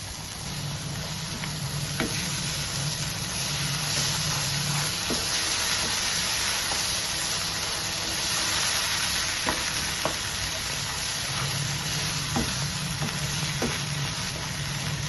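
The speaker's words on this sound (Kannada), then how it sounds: "ಈಗ ಇದನ್ನು ಹೀಗೆ ಚೆನ್ನಾಗಿ ಫ್ರೈ ಮಾಡ್ಕೊಳ್ಬೇಕು" Mangalore-style mackerel (bangude) masala frying in a pan with thick spice paste: a continuous close sizzle broken by occasional scraping clicks as it is stirred, with no talking.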